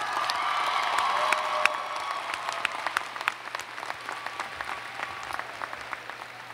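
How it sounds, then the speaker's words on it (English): A graduation audience at the University of Louisville giving a round of applause, dense clapping that swells early with a few whoops and cheers, then gradually thins into scattered individual claps. "give them a round of applause"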